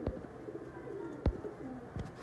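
Sialkoti pigeons in a loft in Faisalabad, Pakistan, give soft, intermittent coos mixed with a few sharp flaps or clicks, fairly close and unaccompanied by speech.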